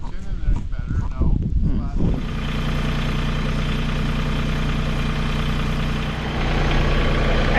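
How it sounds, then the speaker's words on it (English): A tractor engine idles steadily on an Alaska homestead garden plot, a loud continuous low rumble that settles in after a brief burst of voices and clatter at the start. "The tractor reaches a little better."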